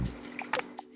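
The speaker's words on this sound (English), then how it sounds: "I'm gonna add a little bit more water to be sure that this Acqua Pazza has enough liquid" Water is added to a pot of Acqua Pazza, a tomato and red snapper fish stew, making a brief close splash with a few drips and liquid gurgles.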